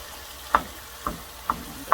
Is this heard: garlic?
yes